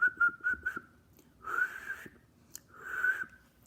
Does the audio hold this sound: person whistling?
yes